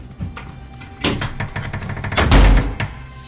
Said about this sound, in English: We're closing the slammer door.